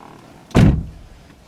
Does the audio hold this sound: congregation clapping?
no